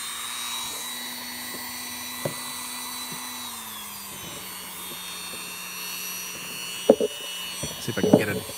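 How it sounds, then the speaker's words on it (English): A small power drill whirs steadily on a McFarlane DC Multiverse action figure, adding articulation. The motor's pitch drops slightly partway through, and a few clicks and knocks follow near the end, with no speech. "Let me drill some"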